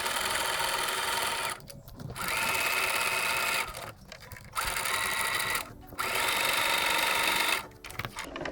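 A sewing machine runs loudly in four long bursts with short pauses between, stitching the rows of a table runner together.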